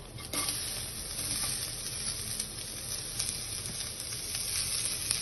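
Chopped ginger, garlic and chili frying in hot oil in a pan, a loud continuous sizzle with faint stirring clicks throughout.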